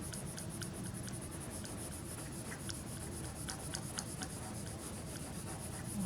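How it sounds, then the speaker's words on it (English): A colored pencil rubs firmly on paper in dense back-and-forth strokes, shading a dark patch, a continuous close scratching texture with faint ticks and no talk. "So I'm going to go ahead and really color dark on this end."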